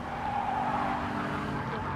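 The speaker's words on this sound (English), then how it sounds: "Downshifting hard into that long left." A Gr.3 V8 race car in Gran Turismo Sport drops gears under hard braking into a long left at Kyoto, engine note swinging with tire squeal over steady road roar; continuous and close.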